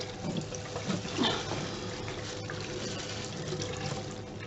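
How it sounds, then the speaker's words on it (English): Dyed cotton rinsed under a running tap, with a steady close splashing rush of water that swells slightly at moments. "it's a case of just rinsing these off until there is no colour left coming out"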